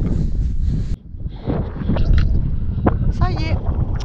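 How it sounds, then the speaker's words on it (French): Strong wind buffets the microphone at an outdoor viewpoint over a valley in Morocco, a loud continuous rumble that briefly drops off before surging back, with a voice speaking under it. "Alors désolé pour le vent"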